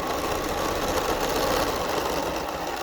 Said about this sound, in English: when you start with your thread again, you need to lock your stitch again